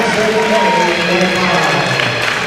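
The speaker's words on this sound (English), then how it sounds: "Fans, please give one final round of applause for Elmhurst University senior class of" Volleyball fans in a university gym applaud and cheer for the Elmhurst University senior class, a steady loud wash of clapping and crowd noise that holds without a break.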